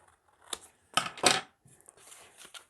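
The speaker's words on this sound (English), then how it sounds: "if I want to do that, I can cut off a tab" Scissors snip a paper tab on an almanac-style bat book journal: a few quiet, close crisp cuts in short bursts with pauses between, then lighter rustling snips.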